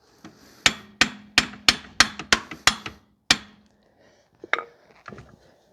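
Sharp metallic hammer blows strike a rear wheel hub on a 2005 Toyota Corolla during a wheel bearing replacement, about nine hits in a steady rhythm, then a pause and a few lighter, scattered knocks, loud and close with no talking.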